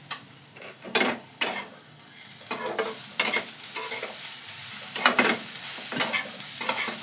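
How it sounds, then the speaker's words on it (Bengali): Fish fritters being fried and stirred into whole masoor lentils in a pan, with a steady sizzle broken by several loud scraping stirs at uneven intervals, close and without talk. "দিয়ে এটাকে আবার ভেজে নেব"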